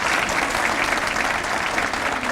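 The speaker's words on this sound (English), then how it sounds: "let's give her a round of applause for her great work in this" Steady, dense applause from a hall audience at a university Hall of Distinction ceremony, honoring Mary Lackey, sustained and even throughout with no pauses.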